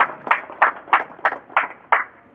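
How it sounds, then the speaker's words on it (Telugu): An audience claps in a few sharp, evenly spaced bursts, six quick, loud claps in a regular rhythm with no talk. "వాళ్ళందరికీ చప్పట్లు కొడదాం."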